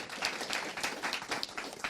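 Short burst of audience applause at an interview, dense close clapping that holds steady for a couple of seconds with a little speech underneath.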